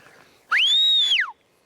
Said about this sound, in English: I'm going to whistle now and see if he'll